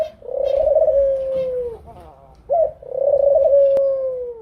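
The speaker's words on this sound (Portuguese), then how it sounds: "a pomba burguesa, uma espécie da Europa e Ásia que faz um som como se estivesse rindo" Eurasian collared dove giving a laughing-like call: two loud, close, drawn-out nasal coos, each breaking into a fluttery, chuckling texture and separated by a short pause.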